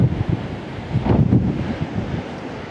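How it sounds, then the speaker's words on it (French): Strong wind gusts blowing hard, a loud low rumbling roar that swells and surges briefly in the middle, with no voices. "Ouais, très belles rafales même."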